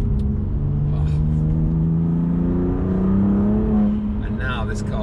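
A BMW M2 Competition engine drones and revs under load while driving, a loud steady in-cabin growl that rises in pitch, with someone talking over it.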